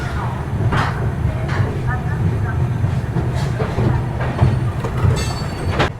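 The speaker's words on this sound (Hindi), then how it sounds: "तो अपनी सिकंदराबाद राजधानी एक्सप्रेस निकल चुकी है हजरत निजामुद्दीन रेलवे स्टेशन से।" The Secunderabad Rajdhani Express rolls out of Hazrat Nizamuddin station in Delhi with a steady rumble and rhythmic clatter of wheels, a brief squeal near the end, and voices talking over it.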